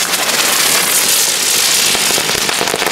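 Fireworks going off in Italy, a loud, dense, continuous crackle of rapid bangs and pops that fills the whole stretch without pause.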